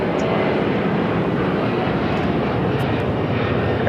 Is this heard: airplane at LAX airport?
yes